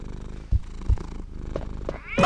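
Cats purring in a video game set in Raccoon City at Christmas, a close, continuous rhythmic purr with a few soft thuds and a brief brighter sound at the end.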